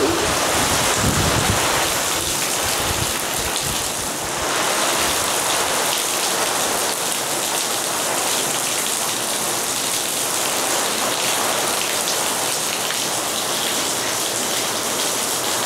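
Heavy rain pours steadily during Hurricane Milton near Disney World at night, a dense continuous roar of drops hitting surfaces, loud and unbroken, with a brief lower rumble early on and no talk.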